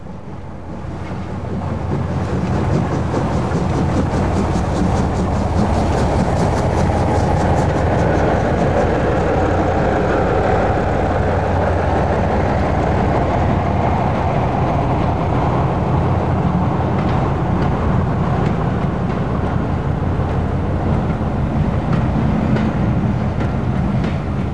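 An L.N.E.R express steam locomotive hauls a train out of Marylebone, a loud, steady, continuous rumble and roar that builds in the first seconds and holds close and strong throughout, with no talking.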